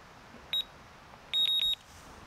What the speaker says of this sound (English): Just switch the alarm on.